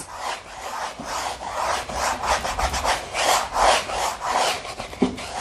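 A large, scratchy paintbrush scrubs paint around in circles on a canvas, giving a close, rhythmic rubbing swish that swells and fades with each stroke.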